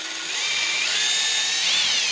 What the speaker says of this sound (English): So now I will drill these out too.